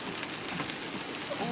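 Rain patters steadily on the road during a car drive, a soft, even wash of droplets with no voices.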